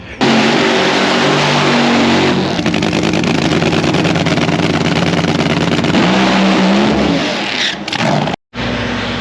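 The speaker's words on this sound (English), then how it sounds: "The car smoked the tires and quit, so we didn't get a very good run" A race car at a drag strip roars loudly through a run as it smokes its tires, a steady engine blare with shifting pitch, then a brief cutout near the end.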